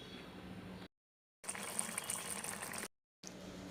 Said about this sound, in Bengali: ঝোলের সাথে ফুটিয়ে নিচ্ছি, যাতে কোপ্তার মধ্যেও ঝোল ঢুকতে পারে